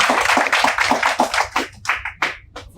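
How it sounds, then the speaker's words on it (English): Audience applause at a formal Korea–Hawaiʻi special event, a dense burst of many hands clapping that stays loud and steady throughout before thinning slightly toward the end. "Please give a big applause."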